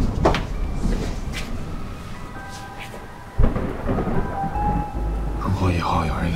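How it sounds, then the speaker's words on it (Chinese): A heavy rainstorm hisses throughout with a sudden thunder crack midway, followed by continued rumbling. Faint voices may sit under it. "外面下这么大雨，怎么也不打把伞？"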